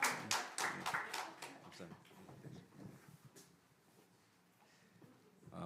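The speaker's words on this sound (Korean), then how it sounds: "자, 축하 박수 해줘." A church congregation gives congratulatory applause for a new member finishing a four-week course, a quick run of close, fairly loud claps in the first two seconds that then fades into quieter room noise.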